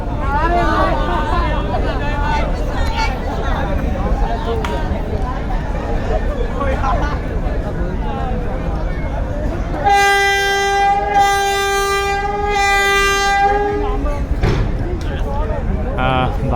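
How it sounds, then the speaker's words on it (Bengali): Passenger launch Sundarban 12 sounds a loud, steady horn for about four seconds as it reverses and departs, rising over a continuous rumble of engine and crowd noise, with talk going on throughout. "তারপরে ব্যাগ গিয়ার দিয়ে যাচ্ছে সুন্দরবন বারো লঞ্চ"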